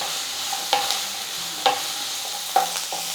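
Onion, garlic, salt and tamarind for garlic chutney sautéing in a pan: a soft, steady sizzle broken by three light metallic taps of a stirring spoon, with no talk.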